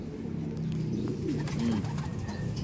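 Racing pigeons near their loft after a training flight, with a few low, soft coos rising over a constant background hum.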